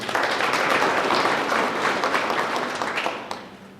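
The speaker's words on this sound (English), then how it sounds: "Round of applause again." Audience applause at a regional speech event in Kavango West, a dense, steady wash of many hands clapping that holds strong and then tapers slightly toward the end.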